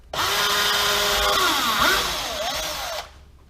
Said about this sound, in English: I'm going to drill a hole through here.